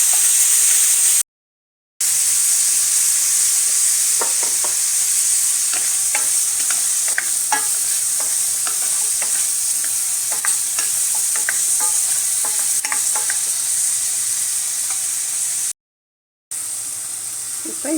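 Onion and tomato masala for egg kurma sautés in a hot pan with a constant loud sizzle, broken by light clicks of stirring and two brief silent gaps.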